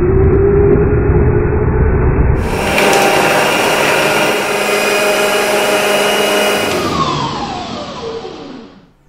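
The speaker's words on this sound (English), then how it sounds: "So now let's try on the food processor." A food processor grinds almonds and coconut flakes with a loud, steady motor roar. Its pitch and texture shift a few seconds in, then it winds down and fades at the end.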